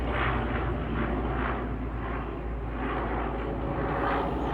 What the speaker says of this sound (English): Okay, that might have been a military plane.